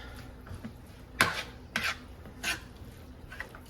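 Casserole ingredients being combined in a pan, with a few scraping, rasping strokes of a utensil against the pan spaced out over a few seconds, close and fairly quiet.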